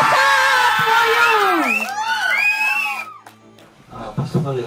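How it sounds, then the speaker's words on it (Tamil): A crowd whoops and cheers loudly to welcome a guest on stage, with high rising shouts and screams overlapping, then fading into a voice speaking. "ஒரு பெரிய எனர்ஜி, ஒரு பெரிய கைத்தட்டல் வீசுங்க."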